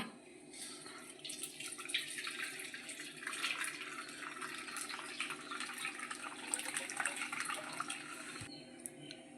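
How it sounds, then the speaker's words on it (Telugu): Steady trickling of liquid draining through thin cotton cloth while making rasmalai, a continuous close-up watery hiss with a few soft drips, no voices. "ఇప్పుడు మనం దీన్ని వడపోసుకోవాలి"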